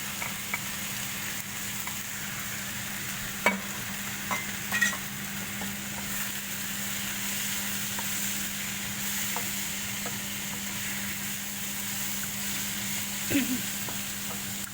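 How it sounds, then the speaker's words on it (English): Chicken biryani frying in a pot as tomatoes and green chilies go in, a steady soft sizzle running throughout with a few faint clinks of stirring and a low constant hum underneath, no voices. "we're going to add in our tomatoes and our green chilies"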